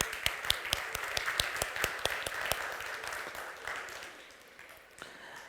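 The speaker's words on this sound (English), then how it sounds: "let's give these innocent, amazing diamonds a massive round of applause" Audience at a youth leadership program event in Jeddah clapping, a sparse scattering of distinct handclaps that thins and fades toward the end, moderately distant.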